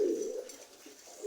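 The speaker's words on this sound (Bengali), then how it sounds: "আপনারা দেখছেন এখানে অনেক জাতের কবুতর আছে।" Pigeons coo softly in a loft that houses many breeds, a low murmuring call running steadily through the whole moment with no talk.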